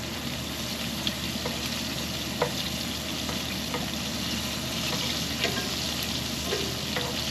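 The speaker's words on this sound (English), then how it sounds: "I'm going to shallow fry them. Just fry until golden brown." Small smelt fish shallow frying in oil make a dense, steady crackling sizzle close by, with a few faint clicks of a utensil against the pan and no talking.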